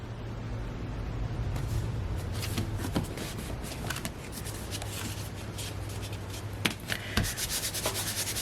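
Paper layer rubbed by hand onto a greeting card front during cardmaking, a steady close dry rubbing and brushing texture with a few sharper taps and scuffs, no talking.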